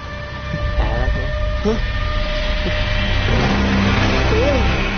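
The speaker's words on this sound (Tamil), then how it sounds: "அந்த வண்டி டிரைவரே இல்லாம வந்துட்டு இருக்கா." A driverless ghost truck rumbles along in a horror film chase scene, its engine droning steadily with a rising surge. Voices and tonal music play over it.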